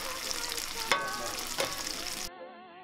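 Fennel cakes fry in a hot pan, a loud steady sizzle with two sharp bursts as batter hits the oil, ending abruptly.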